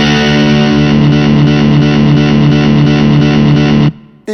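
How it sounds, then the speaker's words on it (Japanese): A ZOOM MS-50G+ multi-effects pedal with its delay on a slow setting repeats loud, distorted electric guitar notes in a steady sustained wash, then cuts off abruptly near the end, with no talking. "踏んだ瞬間に鳴ってた音を繰り返してくれる"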